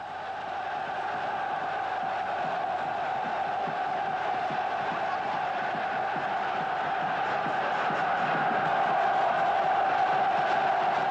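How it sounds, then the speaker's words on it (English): Massive crowds cheering and roaring as Sukarno drives to the Governor General's palace, a dense sustained wall of voices that swells slightly louder toward the end, heard from within the throng. "The next day, mobbed by cheering crowds, Sukarno drove to the Governor General's palace."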